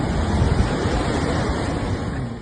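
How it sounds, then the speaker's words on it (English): Large waves and flash floods sweeping away houses and cars in New Hampshire, heard as a dense, continuous roar of rushing water and wind, loud and unbroken. "Large waves and flash floods swept away houses and cars in New Hampshire, USA."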